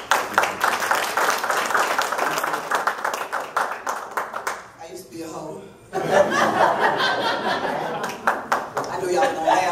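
A comedy show audience claps along in a steady, lively patter mixed with chuckles and crowd noise, briefly dropping away before resuming with cheering.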